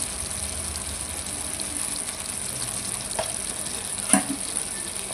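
Potato and eggplant pieces cooking in a pan with tomato going in, a soft continuous sizzle with occasional stirring clinks and a brief louder knock near the end.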